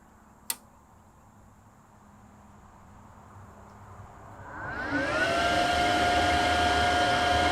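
An ArcCaptain MIG 145 Pro welding machine is switched on with a sharp click, then a cooling fan spins up into a loud, steady whir with a rising tonal hum, close and continuous, with no voices.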